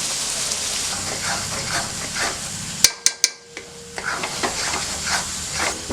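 Mutton varuval masala with garlic, onion and chili powder frying in oil, giving a steady close sizzle, interrupted midway by a few sharp metal ladle clinks against the pan.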